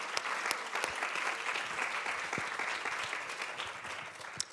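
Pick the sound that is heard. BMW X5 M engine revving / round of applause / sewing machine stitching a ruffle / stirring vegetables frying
round of applause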